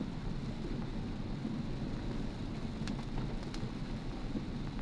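Steady rain during a rainstorm, heard from inside a moving car on a drive through Metro Manila, a dense even hiss with a low rumble throughout.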